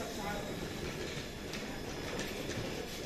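A freight train carrying JCB machines, three per wagon, rolls through an Indian railway station, a steady broadband rumble of wagons with faint clatter, and talk is heard over it throughout.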